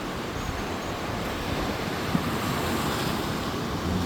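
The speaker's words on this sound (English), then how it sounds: "But these waves" Caribbean Sea waves wash onto the shore in a steady broadband roar, with wind buffeting the microphone and no talking.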